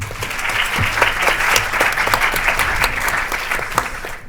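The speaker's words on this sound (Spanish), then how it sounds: "Un aplauso, por favor." Audience applause in a university faculty hall, a steady dense burst of clapping from many hands lasting several seconds.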